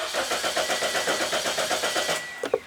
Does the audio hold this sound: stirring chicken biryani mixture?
no